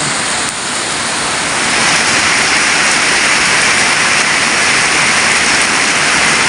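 Steady, dense rush of heavy rain pouring down, constant and loud throughout with no voices.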